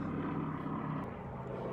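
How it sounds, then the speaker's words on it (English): A jet aircraft flies overhead outdoors during a spring-break week, its broad, steady engine roar holding at a moderate level through the whole stretch with no voices over it. "Oh, it looks like a jet."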